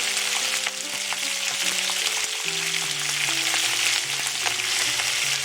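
Carom seeds frying in hot oil give off a loud, dense crackling sizzle, continuous and close, with a steady low hum beneath it and no voices.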